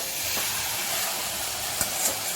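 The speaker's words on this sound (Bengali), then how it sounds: "ভালো করে এর সাথে আমি কষিয়ে নেব, মশলা আর মাংসের সাথে" Meat sizzling as it is sautéed with spices in a pan for a Bengali dish, a steady bright hiss with a couple of faint clinks of a utensil.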